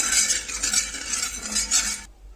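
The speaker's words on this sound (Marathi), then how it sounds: "तर आता इथे मी सर्व तव्याला तेल असं व्यवस्थित पसरून घेतलेलं आहे" A spatula scrapes and swishes across a hot iron tawa as oil is spread over it on a low gas flame for leftover chapati breakfast, giving a soft, rhythmic stirring with faint sizzle.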